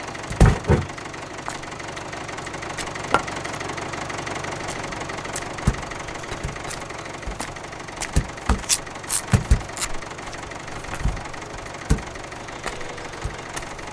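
A vehicle engine idles steadily in the background of a rural street scene, a low continuous rumble with occasional knocks and clatters rising above it, no talk heard.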